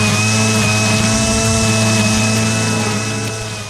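A DeWalt 40 volt brushless string trimmer runs at a steady high whine, loud and close, holding constant with no talk before easing slightly at the end.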